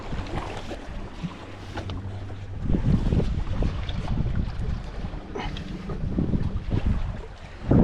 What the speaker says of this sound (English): You got choppy brown water, wind blowing straight off the lake into our face